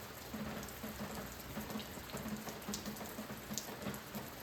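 Steady rain falls outdoors, a dense, even hiss of drops with scattered sharper patters, soft and continuous without any voices.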